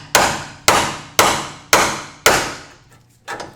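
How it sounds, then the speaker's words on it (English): A ball joint removal fork is hammered in between the spindle and the control arm during front control arm replacement on an E53 BMW X5, giving five loud, evenly spaced metallic strikes with ringing decay, then a softer knock. "I'm gonna put our ball joint removal fork right in between the spindle and the arm, and I'm gonna hammer it in."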